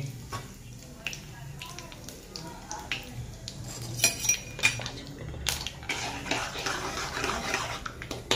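Cumin and mustard seeds dropped into a hot pan for a spicy tiger prawn dish, giving scattered sharp pops and crackles with metallic clinks of the pan, growing busier over several seconds at close range.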